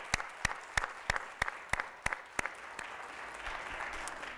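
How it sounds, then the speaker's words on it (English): Applause at the NASDAQ MarketSite in New York, heard as a run of about a dozen evenly spaced, sharp claps that stand out clearly at first, then fade into a softer crowd wash with a faint murmur behind. "Let's give a round of applause for everybody here."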